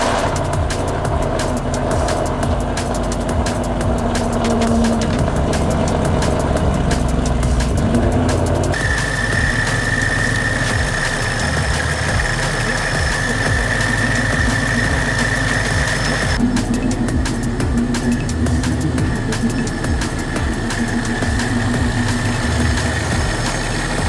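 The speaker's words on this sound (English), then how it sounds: "Quite a loud cold start, but as you guys can see, she is running." A supercharged Ford Mustang engine roars through a loud cold start, then settles into a steady, rough idle close by, with a shift in tone partway through as the revs drop.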